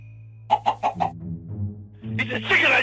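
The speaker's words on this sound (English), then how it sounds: "It's a chicken, I tell you! A giant chicken!" A chicken gives four quick, evenly spaced clucks over a low, steady hum, followed by softer mumbling sounds and a brighter, noisy burst at the end.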